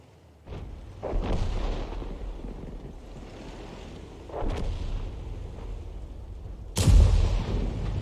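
SU-130 artillery firing in a tank video game: three heavy, booming shots spaced a few seconds apart, each with a deep rumbling tail, the last the loudest, over a steady low background rumble with no talking.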